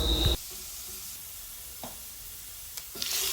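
Chopped garlic, dried chilies and five-spice sizzling in oil for an olive pickle, an initial loud burst settling into a soft steady frying hiss with occasional faint clicks, no voices.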